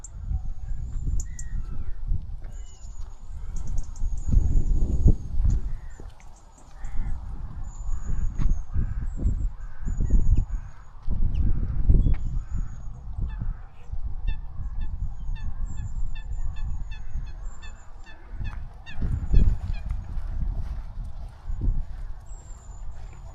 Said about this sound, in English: You can see swans in the distance becoming territorial.